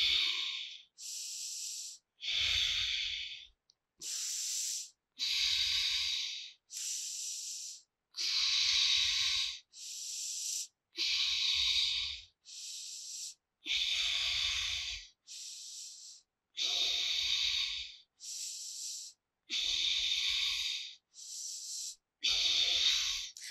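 Rhythmic in-and-out breaths during beginner dumbbell yoga, each breath a loud, close, hissing burst of a second or so separated by short pauses, repeated steadily throughout with no talk.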